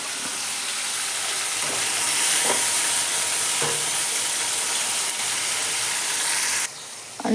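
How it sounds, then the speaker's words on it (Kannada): Chana dal fries in a pan for a palya, giving a steady hissing sizzle with occasional soft scrapes of stirring, then cutting off abruptly near the end. "ಸ್ವಲ್ಪ ಫ್ರೈ ಆಗಲಿ."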